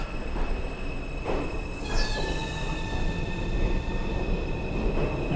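An M subway train pulls out of the last stop in Middle Village, Queens, heading back toward the city. Its wheels squeal in long high tones over a steady rumble of railcars, fairly close and clear with no talk.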